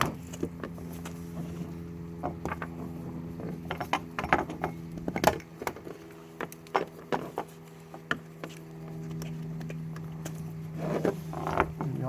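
A DEWALT 1.5-inch ratchet tie-down strap is tightened with a hook while securing a boat, producing faint scattered clicks and ratcheting rattles over a steady low mechanical hum, with a brief smoother stretch partway through.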